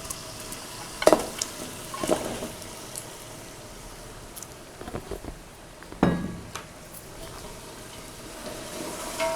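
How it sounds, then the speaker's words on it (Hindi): Beef frying with spices in oil, heard as a soft steady sizzle with a few sharp stirring clanks from a utensil against the pot, alone without talk. "मसाले को भूनने के बाद अब हम इसमें गोश्त शामिल कर लेंगे।"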